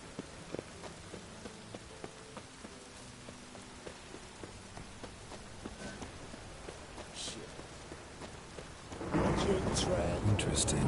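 Steady rain hiss in the video game The Witcher 3 throughout, growing heavier and louder near the end, with faint voices and a few soft knocks underneath.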